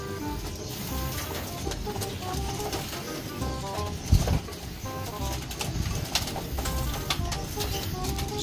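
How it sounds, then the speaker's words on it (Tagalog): Pigeons coo and flutter in a busy flock at a racing-pigeon wing-stamping event, with a sharp burst of wing flapping midway as birds are released, over steady background noise. "Papakawalan na lang muna dito yung mga ibon natin."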